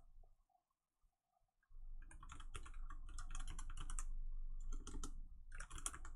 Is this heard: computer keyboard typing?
yes